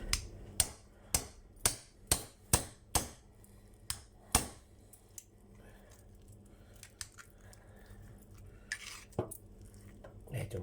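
A series of sharp hammer blows on a large tuna, about nine evenly spaced strikes, followed by quieter scattered knocks and handling sounds.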